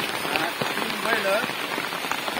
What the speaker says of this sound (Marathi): पावसाचा धुमाकूळ चालू आहे इकडे सध्या